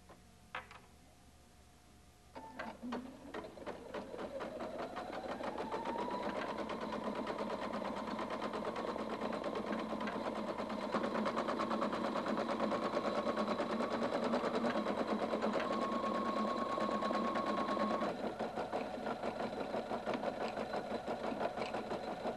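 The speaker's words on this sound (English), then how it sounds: "Sew the remaining colors of the embroidery, changing thread color as prompted by the color touch screen." A Husqvarna Viking Designer 1 sewing machine stitches an embroidery design, starting with a few clicks and then speeding up into a loud, steady, rapid whir that runs evenly to the end.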